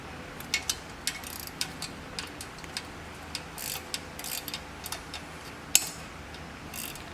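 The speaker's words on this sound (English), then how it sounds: "then you just hold it there and then tighten the nut underneath" A nut being tightened on an engine valve adjuster gives a series of faint, close metallic ratcheting clicks, uneven in rhythm across the clip, with one sharper click near the end and no talking.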